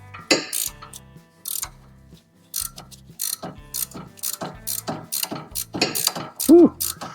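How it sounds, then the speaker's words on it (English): A 17 mm ratcheting wrench turning a suspension nut during steering and suspension repair on a Honda Pilot or Acura MDX, rapid ratchet clicking in repeated strokes with brief gaps, close and fairly loud. "So we got our 17 ratcheting wrench here. And we'll just turn that nut as long as it will allow us to do so."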